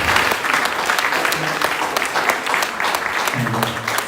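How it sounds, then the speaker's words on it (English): Loud sustained clapping from a crowd at a 35th anniversary celebration, steady and dense throughout, with some voices mixed in beneath. "I would like to give a big round of applause"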